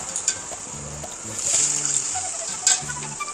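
Water goes into a pan of bitter gourd curry cooking on the stove, bringing soft hissing and bubbling, a brief louder surge of sizzle midway, and a few light clinks of a utensil against the pan.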